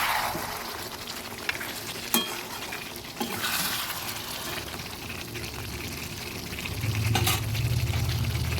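Desi chicken and potato curry is stirred in a pot as the meat releases water, with wet scraping and a sizzling, bubbling bed, occasional clinks of the spoon against the pot, and a slightly heavier stretch near the end.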